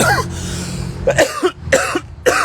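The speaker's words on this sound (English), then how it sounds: "Speaking of a cough, yeah, sorry about that." Several harsh coughs in quick succession, close and loud, following a short throat-clearing sound.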